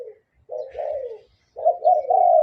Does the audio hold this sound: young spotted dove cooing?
yes